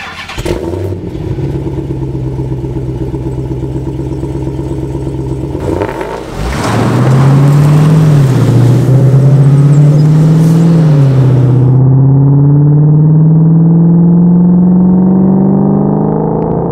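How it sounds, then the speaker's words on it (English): A Dodge Challenger's engine idles with a steady rumble, then revs sharply and pulls away, the deep engine note rising and shifting as the car drives off, loud and close with no talking. "My one and only, my favorite car, a Dodge Challenger, which you see parked right there."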